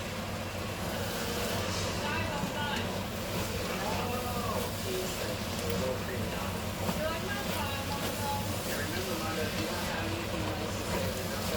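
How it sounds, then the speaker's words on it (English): An electric fan runs in a home kitchen to clear smoke from cooking goulash, giving a steady, low airy whoosh throughout while a person talks over it. "I'm turn on that fan and see if it blows some of that smoke away"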